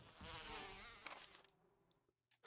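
Giant bees near a large beehive in the Resident Evil HD game give a dense, close buzzing drone that fades after a couple of seconds, followed by faint scattered clicks.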